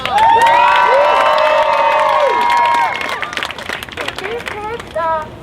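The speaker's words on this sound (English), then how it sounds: "Give him a round of applause." Crowd at a street protest march against Monsanto in Dallas erupts in loud cheering, whistles and clapping, with shouted voices and children's yells rising over the applause before it thins out near the end.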